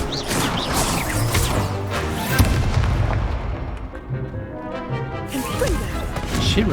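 Incendio fire spells cast repeatedly in a Hogwarts wizard-duelling video game, a dense run of crackling blasts and impacts with steady loud game effects throughout.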